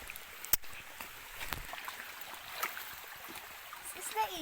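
Soft, steady rushing of a river flowing on a farm, with faint voices and scattered small clicks and knocks in the background.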